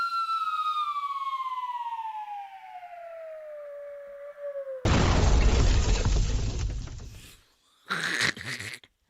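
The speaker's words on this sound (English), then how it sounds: "I did the slide long and then the explosion right at the end of it." A made sound effect: a long tone slides smoothly downward for several seconds, then a loud booming explosion bursts in and rumbles out, followed by a short second burst of noise.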